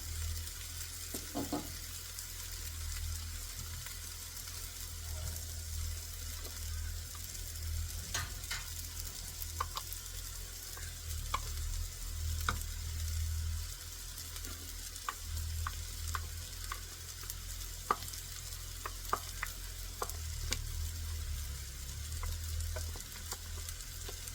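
Papaya stir-fry with crushed coconut stirred in a pan: a soft, steady sizzle with a low hum underneath and scattered light scrapes and taps of a spoon, quiet and close, no talking.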